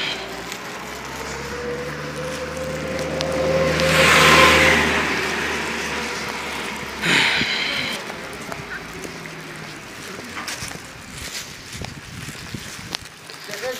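A car passes by on a street, its engine noise swelling to a loud, near peak and then fading away, heard over wind buffeting the microphone and outdoor background.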